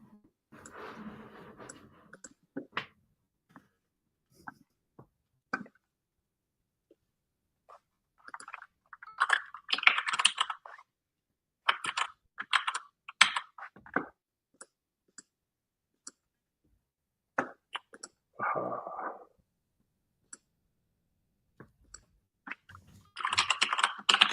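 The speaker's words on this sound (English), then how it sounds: "I'm now typing" Bursts of computer keyboard typing come in short irregular clusters separated by quiet pauses, close and fairly crisp, with no talking.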